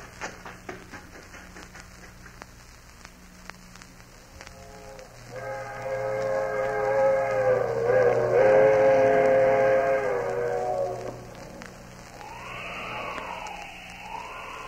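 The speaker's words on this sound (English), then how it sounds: "There's the train. Traveling fast, all right." A fast train rushes past on an old-time radio drama, a rising rumble of rail cars with a long, loud whistle blowing over it, then a wavering siren-like tone as it passes.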